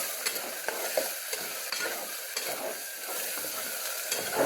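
Chicken fry for a party being stirred in a pan, a steady sizzle with scraping spoon strokes against the pan, fairly close and continuous, with no talking.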